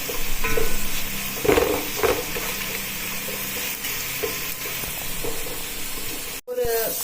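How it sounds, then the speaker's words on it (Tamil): Onions frying crisp and golden in hot oil for mutton biryani give a loud, steady sizzle and hiss, with occasional stirring scrapes and a brief clatter near the end, no voices. "ஆனியன் நல்லா கிறிஸ்பியா மாதிரி ஆயிடுச்சு. சவுண்ட் வருது."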